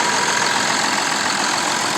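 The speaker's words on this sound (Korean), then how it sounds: "엔진 소리도 좋아요" A 2008 Kia Mohave 4WD KV300 with 157,000 km idles steadily, a constant close engine hum with a smooth even texture and no talking over it.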